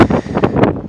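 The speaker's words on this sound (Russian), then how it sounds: "Вот сегодня ветреная погода." Strong coastal wind buffets the microphone in loud, gusty rushes with a few sharper bursts, all within under a second and with no voices.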